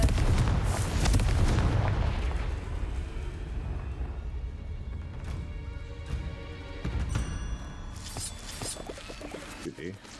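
Confringo fire-blast spells in Hogwarts Legacy: booming explosive bursts, loud at the start and then recurring in scattered impacts over a continuous game ambience, with sharper crackling hits near the end.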